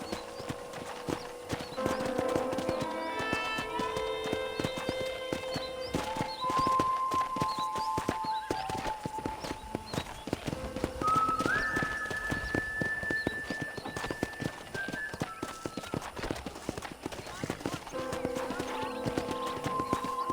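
Steady clip-clop of horse hooves plods along throughout in Red Dead Redemption on a ranch, with bright musical tones playing over it and a faint whinny; no talking.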